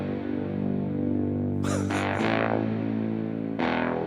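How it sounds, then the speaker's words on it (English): Hollow-body Silvertone 1420 guitar run through a Strymon tremolo and an Electro-Harmonix Synth9 pedal, giving a steady distorted, throbbing synth drone with sweeping noisy swells layered on top, loud and with no talking. "Most of what you're hearing is a tremolo, that's in a Strymon pedal, and then a synth, that is a electro harmonics pedal."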